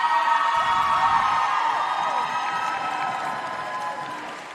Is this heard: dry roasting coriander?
no